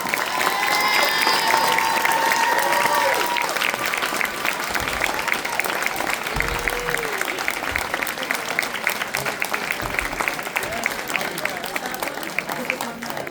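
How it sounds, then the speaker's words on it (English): A large fan-convention audience applauds and cheers for a panel, a dense, steady wash of clapping that stays loud throughout, with a voice speaking briefly over it near the start. "please give them a round of applause"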